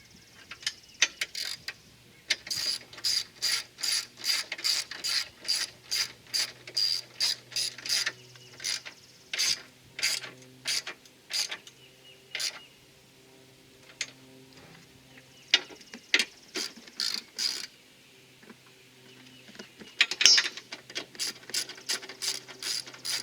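Repeated bursts of quick ratchet clicks while strut tower brace nuts are tightened on a 2021 Toyota Camry TRD, close and crisp, with short pauses between runs and no talking.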